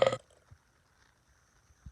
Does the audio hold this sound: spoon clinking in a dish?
no